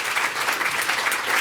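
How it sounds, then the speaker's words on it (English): An audience claps steadily for the speakers at a live campus panel discussion, dense and continuous applause filling the room, with no voices over it. "I hope you will join me in applauding our terrific speakers for their contribution"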